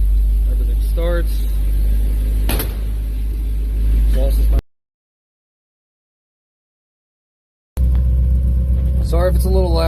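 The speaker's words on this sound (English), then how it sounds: "I'm going to start it up, and you guys can hear it for the first time with an exhaust." An Oldsmobile 350 Rocket V8 in an S10 pickup idles and rumbles loudly with a deep exhaust tone, briefly cut to silence in the middle before the rumble returns; a voice speaks over it.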